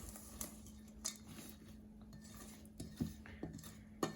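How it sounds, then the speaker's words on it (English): A spoon stirs homemade granola mix of vanilla, cinnamon and coconut in a bowl. Soft, faint clinks and scrapes come at an uneven pace over a quiet kitchen background. "So give it another stir."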